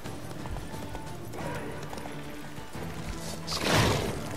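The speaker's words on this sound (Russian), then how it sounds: "Так, у него тревога у коня." Panicked horse hooves clatter with a neigh in The Witcher 3, a steady clip-clop building to a loud close burst of hoof and thrashing noise near the end.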